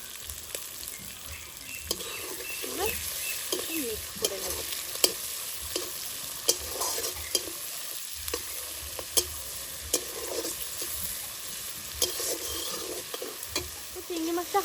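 Prawns frying in a pan with a little turmeric, for a prawn and pointed gourd dish, crackle softly and steadily, with repeated scraping knocks as the mix is stirred.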